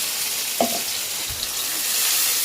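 Ginger garlic paste hits hot oil with fried onions, giving a steady broadband sizzle throughout with a brief louder spatter and a few soft stirring knocks.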